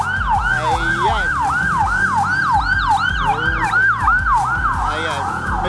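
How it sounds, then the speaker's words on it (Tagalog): An ambulance siren wails in a fast, repeating up-and-down yelp through morning traffic in Kalentong, Manila. It sounds loud and close, with engine rumble beneath and other vehicles around. "Ayan, may dadamo na ambulansya."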